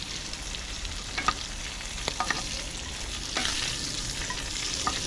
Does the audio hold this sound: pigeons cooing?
no